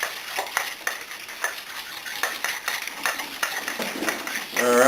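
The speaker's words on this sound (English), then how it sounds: "Just mix it together with a spoon, or excuse me, with a fork." Shrimp with chili peppers mixed with a fork in a bowl, a rhythmic series of light scraping clicks and taps, close, with a louder clatter at the end and a voice speaking over it.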